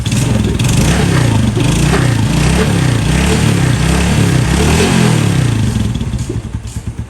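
A motor engine idles steadily and close by, a low chugging rumble that holds constant before fading slightly at the end.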